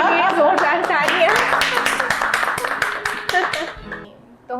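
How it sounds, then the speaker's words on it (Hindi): Clapping from a small group at home cheers a grandmother who has just won a family game, with brisk, uneven claps mixed with overlapping voices, then tapering off near the end. "दादी के लिए जोरदार तालियां।"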